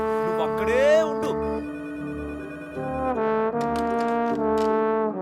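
A telephone ringtone plays in a Telugu film scene, a repeating melodic tone sustained for several seconds at moderate loudness, with a few fainter background sounds mixed in.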